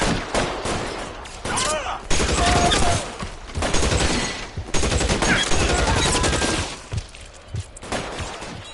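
Loud, dense gunfire from the L.A. Noire video game, with rapid bursts and single shots going on across the whole stretch and brief lulls between volleys.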